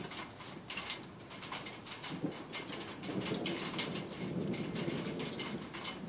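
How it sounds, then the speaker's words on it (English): Steady rain from a thunderstorm patters continuously, heard through an open door in Elk Grove, California, with scattered droplet ticks and a soft low rumble, as birds coo faintly in the background. "Hear the rain."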